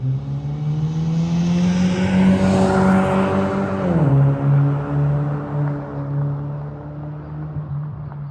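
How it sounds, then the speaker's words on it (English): A car with a Maptun Nano tune revs hard, its engine tone climbing steadily, dropping sharply at the shift into third gear and then pulling on, loud and close inside the cabin. "You can feel the extra power that comes on when you hit 3rd gear."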